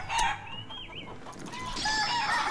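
Chickens cluck and squawk in the video game Shenmue, a busy cluster of hen calls alongside game sounds, fairly close and steady throughout.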